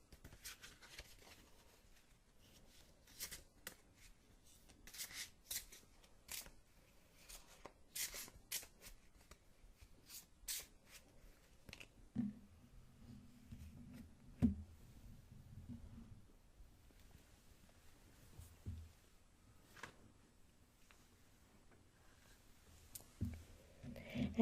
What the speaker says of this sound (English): The next step that I do is I begin to shuffle the cards.